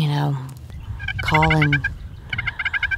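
A wild turkey gobbles loudly twice, rapid rattling calls cutting through a soft outdoor background.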